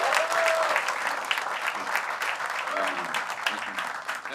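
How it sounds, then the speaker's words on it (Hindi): A crowd at a poetry event gives loud, sustained applause for a poet, dense and continuous throughout, with a voice talking over the clapping. "तालियां रुकनी नहीं चाहिए दोस्तों।"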